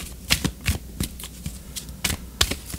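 Oracle cards being shuffled and drawn for a tarot-style reading, giving a run of crisp riffling snaps and papery slaps at irregular intervals, close and fairly quiet with no talking.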